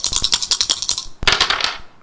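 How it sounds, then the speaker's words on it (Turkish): Dice roll on a TV quiz show, making rapid, bright rattling clicks that tumble in quick succession, then a second burst of clattering that fades out, close and loud with no talk. "Buyurun dönüyor zarlar."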